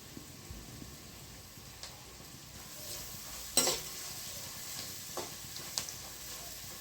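Capsicum and mixed vegetables for egg noodles are stir-fried over high flame in a pan, giving a steady soft sizzle with scattered scraping clinks of the spatula and one sharper clatter midway.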